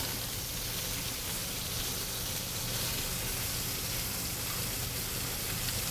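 Lobster sautéing in a pan for bouillabaisse makes a soft, continuous sizzle and hiss, fairly faint and steady with no breaks and no voices.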